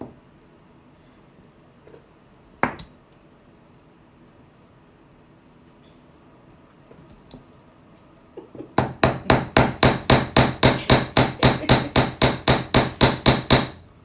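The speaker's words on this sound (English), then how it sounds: "We're going to hammer." A hammer strikes jewelry wire in a fast, steady run of sharp metallic taps that starts after a mostly quiet stretch with one isolated knock.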